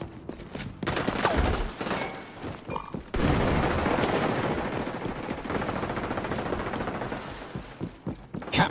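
Frag grenade blast and rapid gunfire in the shooter game XDefiant, a dense barrage of automatic shots with booming impacts running loud and steady, briefly dipping before surging again.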